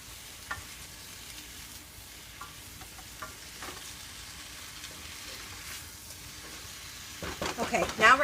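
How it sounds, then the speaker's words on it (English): Vegetables for lo mein sizzle steadily in a pan. Faint scrapes from stirring sit over the continuous frying hiss, and a louder burst of clattering stirring comes at the end. "now while that's cooking up, keep an eye on it, keep stirring it"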